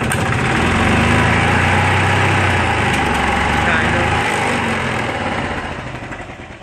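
Engine of a 1987 Club Car golf cart with a leaking flat head gasket, running steadily and loudly close by with a rough, throbbing idle that fades slightly toward the end.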